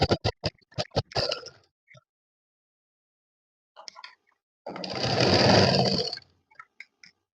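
A sewing machine stitches around the pinned front neckline of a reused saree, with quick separate taps of the needle at first, then a steady sustained whirring run of about one and a half seconds, followed by a few scattered clicks.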